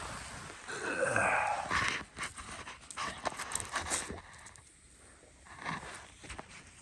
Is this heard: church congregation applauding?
no